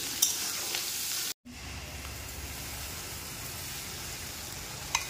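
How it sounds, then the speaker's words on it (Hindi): Onions frying in hot oil as the base for a fish curry, a steady loud sizzle throughout with a brief stir interruption and occasional clinks, no talking. "वर्तमान तेल रे प्याज पड़गला।"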